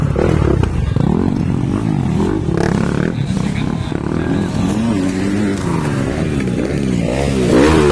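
Motorcycle engines, 85cc and 450cc bikes in a ladies' race, roar and rev continuously, rising and falling in pitch as bikes race past, with a loud crowd or commentary layered over the noise.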